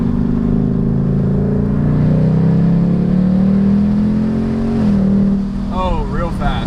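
Car accelerating hard from inside the cabin, engine note climbing steadily then dropping sharply with quick automatic gear changes through a torque converter transmission, loud and continuous, with a brief voice near the end.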